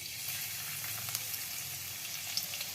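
Garlic paste, peeled and coarsely pounded, hits hot oil in a pan and sizzles steadily, a dense even hiss and crackle with small pops, close and alone without talk.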